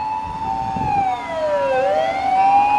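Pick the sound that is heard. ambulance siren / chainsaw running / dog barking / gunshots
ambulance siren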